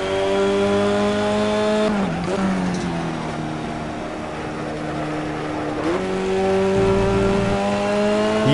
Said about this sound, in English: I do like how it sounds outside the car.